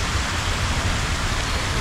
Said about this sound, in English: that is how it looks like when it rains